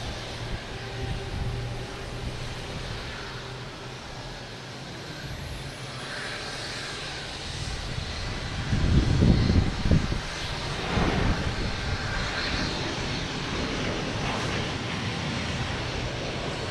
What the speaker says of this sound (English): They also have a Delta A330-900 taking off on 22 right.